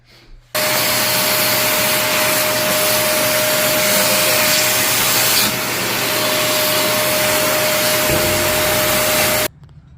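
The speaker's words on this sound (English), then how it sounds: "Magic trick is the vacuum cleaner." A vacuum cleaner switches on and runs with a loud, steady whooshing roar and a high whine for about nine seconds, then cuts off abruptly.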